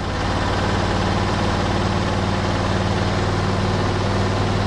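A Husqvarna-style HD38 engine on a bandsaw mill idles smoothly and steadily with its centrifugal clutch disengaged and the blade still, a loud, even low rumble running throughout with no speech.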